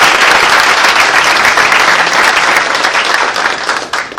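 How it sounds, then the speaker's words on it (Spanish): A crowd at a diploma program event in Mexico claps loudly and continuously, a thick wall of applause with no pauses across the whole stretch, easing slightly toward the end. "presidente del PRI estatal, Alfonso Elías, a quien les pido un fuerte aplauso."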